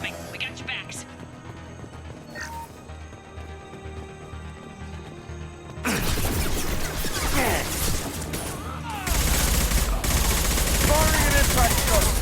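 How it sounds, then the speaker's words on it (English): Gunfire and an impact shot in the video game Mass Effect 2, starting as scattered distant shots over a low hum, then bursting into loud, continuous weapon fire and crashing impacts in the second half. "Firing an impact shot!"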